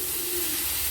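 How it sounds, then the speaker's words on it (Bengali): A steady, loud hiss of pointed gourd and cauliflower frying in a pan, a continuous sizzle with no breaks. "একদিকে পটল ভাজছি, একদিকে ফুলকপি ভাজছি"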